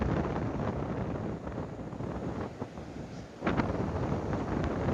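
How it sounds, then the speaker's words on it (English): Strong, steady wind roars and buffets against the microphone on a shingle beach at Chesil Beach, a dense rumbling rush with occasional gusts and no voices. "still very windy"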